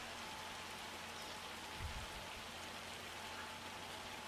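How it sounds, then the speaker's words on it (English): Torrential rain in the video game Farming Simulator 25 pours as a steady, dense hiss throughout, with one soft low thump partway through and no talking. "Like, we're talking torrential rains here."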